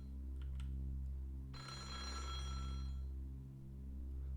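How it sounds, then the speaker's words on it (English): A telephone bell rings in a mansion in the text adventure game Otogirisou, a single ringing burst of about a second and a half over a steady droning backdrop, with no voices. "I could hear more phones ringing."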